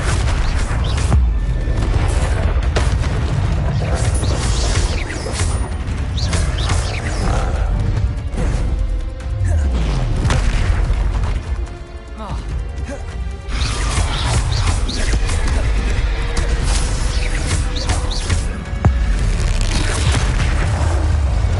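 Flipendo spell cast in the Hogwarts Legacy video game, a dense, loud game mix of booming, crashing spell impacts that stays busy throughout, with a brief dip near the middle.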